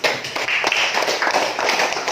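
Students in a classroom clap together in a brisk round of applause, a dense burst of many hands at close range, with a few faint voices mixed in.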